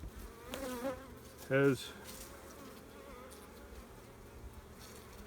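Honey bees hum during a spring hive inspection with drone cells in the comb, producing a steady low drone close by. A couple of sharper, louder buzzes pass near, and a person speaks briefly.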